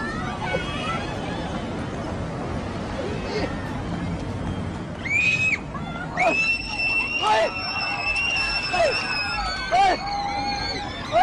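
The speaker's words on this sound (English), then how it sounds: "She becomes upset and starts to scream" A young girl screams outdoors, her shrill, sustained cries starting partway through and repeating in several long bursts over a steady background of crowd hubbub and street noise.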